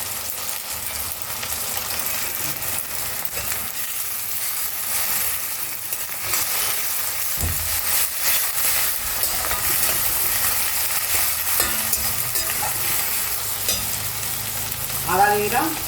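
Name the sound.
grated garlic frying in a pan for chickpea curry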